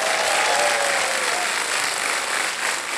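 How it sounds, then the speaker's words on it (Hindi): A studio audience claps steadily on the KBC quiz show set, a dense, even wash of applause that holds for the whole stretch and eases only slightly toward the end. "तालियां बज जाए इनके लिए।"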